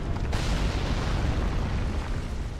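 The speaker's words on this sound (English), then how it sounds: "There's no way for me to know where they are. Except the sound of the explosions." Loud, dense rumbling blasts from video game explosions in a sword-fighting invasion match, a continuous booming roar with a sharp burst near the start.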